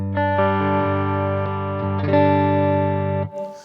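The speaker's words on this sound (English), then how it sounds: "So the reverb, you can hear it's a spring immediately." A Music Man Valentine electric guitar plays sustained clean chords through a Stone Deaf SD-30 amp head with spring reverb, two strummed chords ringing out before the sound cuts and a short reverb tail splashes.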